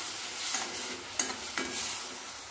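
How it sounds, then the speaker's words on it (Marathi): Two cut tomatoes roast in a kadhai, giving a soft, steady sizzle with a couple of brief stirring scrapes, faint and close, with no talk. "टोमॅटो पण छान नरम होईपर्यंत आपल्याला भाजून घ्यायचं इथे।"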